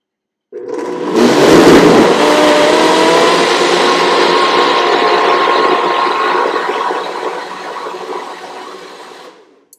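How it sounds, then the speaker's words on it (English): A food processor grinds chickpea hummus with salt, starting abruptly with a loud whirring surge and then a sustained high-pitched motor whine that slowly fades before cutting off. "we're going to grind this up and see what happens."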